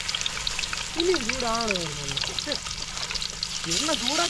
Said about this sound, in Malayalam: നമ്മുടെ മീനെ നമ്മൾ പൊരിച്ചുകൊണ്ടിരിക്കുകയാണ്.